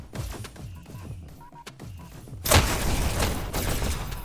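Shotgun fire in a VR esports match: rhythmic thumping movement comes first, then a loud burst of shotgun blasts hits midway and carries on as heavy, rough firing.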